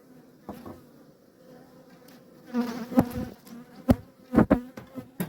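Honeybees buzz steadily in an opened hive with a problem colony and a marked queen, close and moderately loud, with a few sharp knocks and clicks from handling the frames toward the end.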